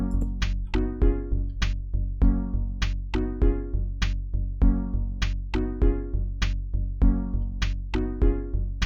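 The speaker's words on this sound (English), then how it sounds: "So I've added some bass using the wood note block combo, and it's just playing the root note" A Minecraft note block loop with wood note block bass thumping the root note under plucked melody notes and crisp ticks, forming a tight, rhythmic groove that repeats steadily and up close.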